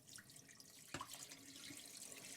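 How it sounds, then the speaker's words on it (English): Tap water runs steadily into a bowl while rice is washed and strained in a home kitchen, a constant close splashing wash with one brief louder slosh, no voices present. "Strain off that water."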